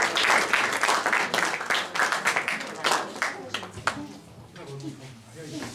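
Audience applause for the third-place winner, Fejes András of Szihalom, at a kocsonya (meat jelly) cooking contest in Bogács, Hungary. Dense, steady clapping fills the first few seconds, then thins out as a voice starts talking.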